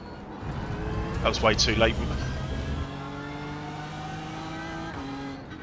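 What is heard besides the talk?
GT3 race cars in iRacing video game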